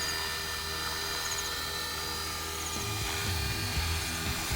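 An RC model UH-1 Army helicopter, 450 size, flies nearby outdoors with a steady high-pitched rotor and motor whine, while low thumping rotor pulses grow stronger near the end as it turns toward the listener.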